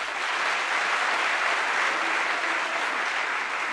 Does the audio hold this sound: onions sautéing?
no